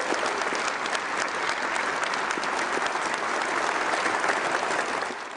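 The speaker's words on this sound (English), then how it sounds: "Let's have another round of applause for Mr. Corey Brunson for that opening run." Dense, steady applause from an audience at a Department of Defense event fills the room at even loudness, fading slightly at the very end.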